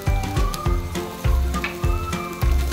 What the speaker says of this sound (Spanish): Ahora en un sartén, con aceite la de su preferencia, cristalizaremos la verdura que picamos.